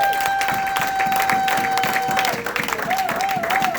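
A church congregation applauding in praise of the Lord, sustained dense clapping with sung or sustained tones and a voice over it throughout.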